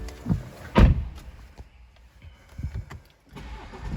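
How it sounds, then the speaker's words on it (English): A BMW 420d M Sport Gran Coupe engine cranks and catches with a brief rumbling burst, followed by quieter clicks and mechanical noises from inside the vehicle. "Beginning with starting the car up"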